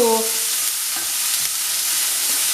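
Onion fries in a pan until light brown, giving a loud, steady, close-up sizzle and hiss that runs unbroken, with a faint tonal sound at the very start.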